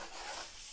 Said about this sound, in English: Now it's time for a little sanding. Spot of 120 to begin.